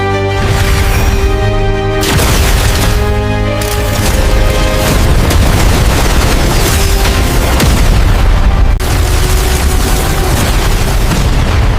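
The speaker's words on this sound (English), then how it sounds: "A massive explosion shook the arena." Loud, sustained booming blasts with a rumbling roar, like a series of explosions layered over dense noise, continuous throughout.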